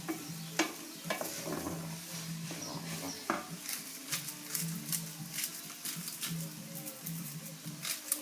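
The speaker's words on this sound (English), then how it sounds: "Saute them around a little bit." Herbs sautéed in a pan for dolmades, giving a soft, steady sizzle with scattered utensil scrapes and stirring taps throughout, fairly quiet, with light clatter standing out now and then.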